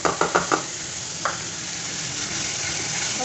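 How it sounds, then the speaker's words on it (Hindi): Spiced onion masala sizzles in a pan for paneer makhani, with a few quick knocks of a spoon against the pan, then a steady hissing fry continues close by with no talking. "हमारा मसाला भून रहा है, अब हम इसमें डालेंगे ये टमाटर की प्यूरी"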